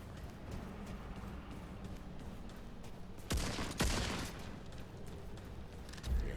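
Rapid gunfire bursts in the video game Remnant 2 crackle over a steady background rumble, with a couple of sharper volleys standing out in the middle.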